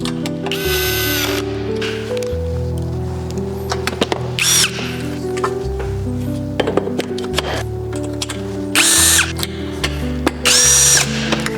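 A power drill drives a screw to fix a zip blind guide rail into the bottom of its box, in several short whirring bursts separated by gaps with faint mechanical clicks and handling noise.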